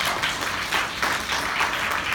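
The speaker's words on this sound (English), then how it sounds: "Give them a big round of applause." An audience at a business training session breaks into a round of applause, dense, fairly close clapping that swells in small waves, with no talking over it.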